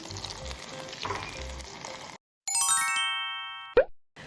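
Seafood and green onion pancake batter crackles in hot frying oil with a dense, close sizzle, then after a short silence a bright metallic ding rings out, followed by a sharp clank.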